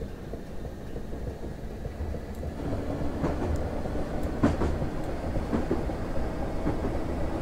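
Low, continuous rumble of a Class 455 electric train in Train Simulator on the Portsmouth Direct Line, with faint clicks and clanks over the steady drone, no voices.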